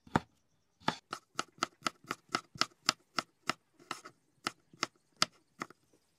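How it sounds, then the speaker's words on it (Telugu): A knife chops garlic into small pieces on a board, producing a steady series of about sixteen crisp, close taps at an even rhythm, with short pauses between some strokes. "ఎల్లిపాయలను కూడా ఇట్లా చిన్న చిన్నగా కట్ చేసుకోవాలి తాలింపులో వేయడానికి"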